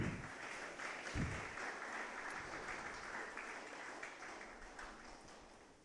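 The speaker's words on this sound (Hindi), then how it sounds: "सबको जोर से ताली बजा देंगे।" Applause from an audience at a farewell ceremony for Brothers of the Ranchi Archdiocese, a soft, steady, even patter of many hands clapping together, faint and continuous throughout with no voices.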